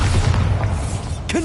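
Bombarda spell blast in Hogwarts Legacy, a single short muffled boom with a quick pop at the end, brief and close.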